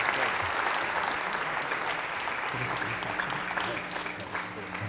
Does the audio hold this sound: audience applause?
yes